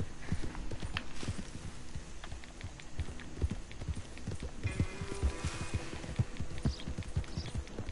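Horse hooves in Red Dead Redemption 2, a rhythmic clip-clop of a galloping mount with quick, fairly close steps, plus some background game sounds and no talking.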